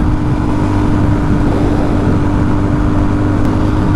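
Suzuki DRZ400 motorcycle engine running steadily at speed on a ride, a loud, continuous drone with constant low rumble and no pauses or talk.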